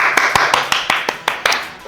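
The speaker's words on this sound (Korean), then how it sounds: "박수!" Regular hand claps ring out close and crisp, about ten sharp claps in a quick steady rhythm.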